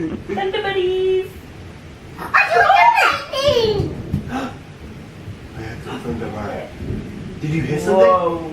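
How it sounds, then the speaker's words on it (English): Thunder rumbles and rain falls during a rainstorm, with bursts of loud noise between a child's excited speech and giggling; the talk dominates much of the clip. "I'm not scared of thunder. Yes! It's raining like crazy."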